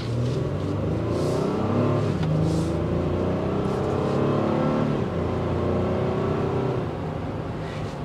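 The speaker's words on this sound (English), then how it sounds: "The exhaust note will filter in, otherwise very composed and smooth drive" A 2024 Honda Pilot Trailsport's naturally aspirated V6 hums steadily while driving, its exhaust note rising and falling gently as the engine pulls through gears, with no talking.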